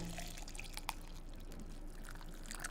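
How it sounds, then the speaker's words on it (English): Hot water is poured into a container, a faint, steady liquid trickle with a few small splashes and drips, heard alone. "All three test subjects immediately identified the sound of hot water"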